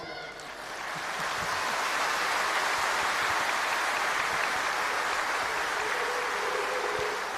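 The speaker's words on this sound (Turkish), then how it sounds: "Çocuklar alkışlıyor." Children at a political party's anniversary event applaud together in a continuous crowd clapping that swells over the first second and then holds evenly, dense and steady, for several seconds.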